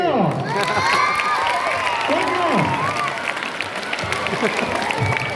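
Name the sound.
classroom applause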